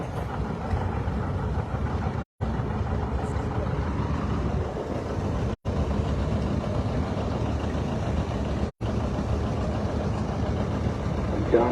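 A 1958 John Deere 720 gas tractor engine rumbles steadily through a tractor parade at an antique power show, a continuous low drone broken by three brief silences.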